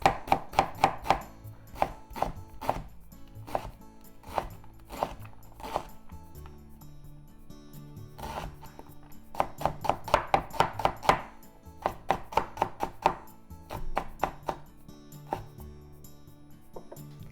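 A knife slicing through tuna melt harumaki spring rolls on a board: a run of sharp, rhythmic cuts in quick bursts with brief pauses, close and clear, no speech.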